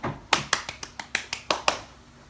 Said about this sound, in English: She heard me clap, so I had to clap back.